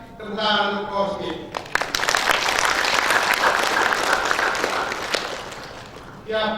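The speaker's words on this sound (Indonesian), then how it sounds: "Tepuk tangan untuk korupsi." An audience at a graduation ceremony breaks into applause, a dense, loud wash of clapping that lasts several seconds between stretches of a voice speaking over a sound system.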